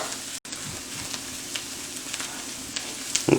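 Fried rice sizzles steadily in a very hot pan over a high flame for keto shrimp fried rice, a continuous broadband crackle with a brief dropout near the start and a few spatula scrapes toward the end.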